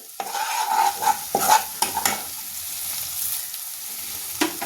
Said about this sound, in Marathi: पुन्हा छान सगळं एकत्र मिक्स करून घ्यायचं